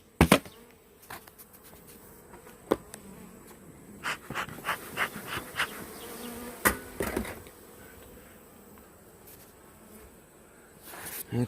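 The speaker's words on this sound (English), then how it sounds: "there's a lot of bees up in there" A dense buzz of honey bees in a hive hums steadily throughout, with scattered sharp clicks and knocks rising and falling over it, close by.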